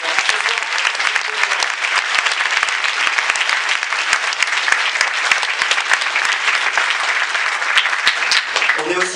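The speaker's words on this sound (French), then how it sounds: "On peut les applaudir bien fort." Loud, sustained audience applause at a film festival closing ceremony honoring animation filmmakers, dense clapping throughout with a faint voice now and then beneath it.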